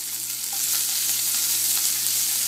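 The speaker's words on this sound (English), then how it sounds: "I'm going to just take some asparagus and I'm going to throw it in here." Fresh asparagus dropped into hot oil in a smoking cast iron pan, a loud steady sizzle and crackle swelling as the spears hit, close with no speech.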